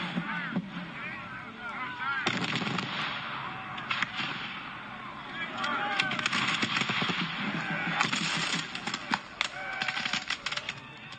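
Recorded battle sounds of modern warfare, dense crackling bursts of gunfire and shouting voices in a chaotic, continuous wash lasting the whole stretch, fairly loud with sharp clustered rattles.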